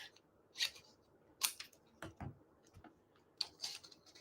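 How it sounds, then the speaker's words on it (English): Scissors cut through card with about half a dozen crisp snips spaced irregularly, close and fairly quiet, in an otherwise hushed crafting space. "And now I need to cut that off."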